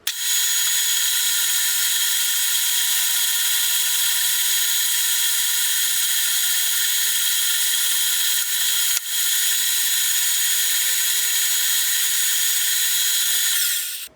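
Metal lathe turning a bullet down to .357 diameter, a steady loud high-pitched machining whine that runs continuously with one brief break near the middle.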